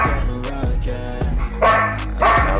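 A Belgian Malinois dog barks several times in short, close, loud bursts, spaced about half a second apart, with a couple of higher yips near the end.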